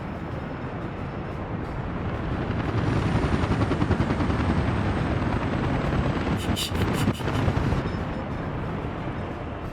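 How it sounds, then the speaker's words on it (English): Helicopters fly over a city, a loud and continuous rotor roar that swells midway and holds steady, with a brief rapid beating burst near the end. "So loud with all the helicopters"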